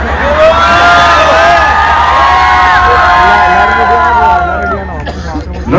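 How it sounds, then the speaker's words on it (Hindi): A studio audience at a comedy show, with boys shouting, cheering and whooping loudly in a dense, sustained crowd roar. It fades slightly near the end. "लड़के क्यों चीख रहे हैं इस बात पे?"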